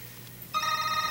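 A telephone rings abruptly after a quiet moment, its electronic bell tone bright and steady, close and clear with no voices over it.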